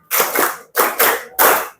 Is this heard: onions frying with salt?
no